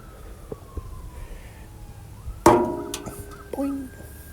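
Emergency vehicle sirens wailing at a distance outside a garage, faint and rising, with a couple of sharp nearby knocks and clatters partway through.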